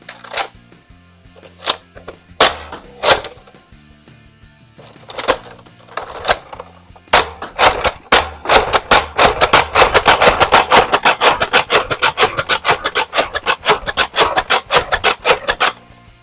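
Nerf Deploy blaster firing waffle head darts: a few isolated clicks and pops at first, then a rapid, loud run of sharp mechanical clacks and shots close by, with no talk.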